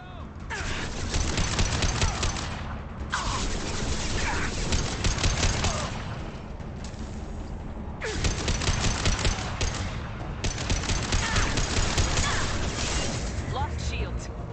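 Sustained automatic weapon fire in Mass Effect 2 comes in long loud bursts separated by short pauses, dense booming rattles with a voice talking underneath.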